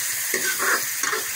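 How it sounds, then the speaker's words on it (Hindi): Chopped tomatoes frying in a tempering of oil and asafoetida, a short burst of crackling sizzle broken by a few stirring scrapes, close and moderately loud. "अब इसमें हम डाल देते हैं कटा हुआ टमाटर। टमाटर को भी हम भून लेते हैं।"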